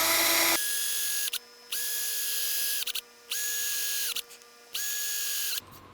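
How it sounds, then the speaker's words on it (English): A power drill whines loudly and close up while boring holes in a Fender bass guitar headstock for new tuners, running in four steady bursts separated by short pauses, with no talking. "So now we'll put this in the drill and we'll drill the holes."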